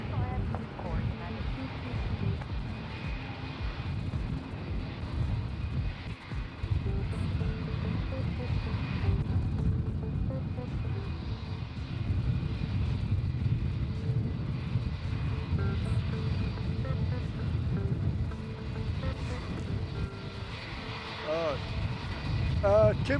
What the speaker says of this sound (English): United 60 in from San Francisco with a Dash 9 Dreamliner. He's coming in now.